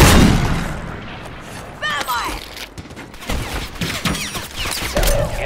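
Gunfire bursts and booms in Call of Duty Warzone 3 on PS5, scattered sharp shots over a busy battlefield din, with game voice callouts heard over the action.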